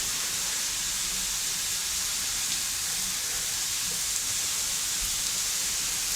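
Meat for a Uruguayan chivito boils in a pan, giving off a steady, even hiss and sizzle that holds without a break from start to finish, with no voices over it.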